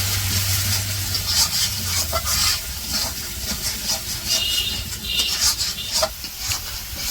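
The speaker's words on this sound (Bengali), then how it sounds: "এখন মশলাটা কষিয়ে নেব।" Spice paste of ground spices, chili powder, turmeric and salt with a little water, stir-fried in a pan in a village kitchen, gives a steady loud sizzling hiss with faint scraping of stirring throughout.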